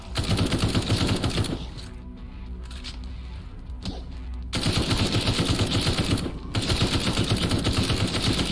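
Zombies are mowed down with loud, fast-rattling automatic gunfire in the Night of the Dead video game, the bursts easing into a softer lull midway before hammering back in close and continuous.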